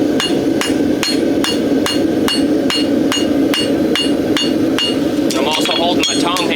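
A farrier's hammer strikes a horseshoe on an anvil while drawing a quarter clip. Crisp metallic blows land repeatedly in a steady, even rhythm, close and loud, with faster ringing taps toward the end.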